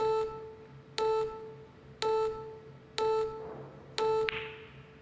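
Shot clock in a professional pool match at the US Open Pool Championship gives five evenly spaced electronic beeps, one per second, clear and moderately loud over a quiet hall.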